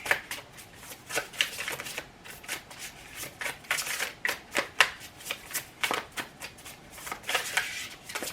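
Tarot cards being shuffled in quick riffling bursts, a steady flutter of crisp slaps repeating close by, with no talking.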